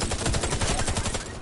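Rapid bursts of video game gunfire, a dense run of repeated shots at steady loudness over about a second and a half, with no talk.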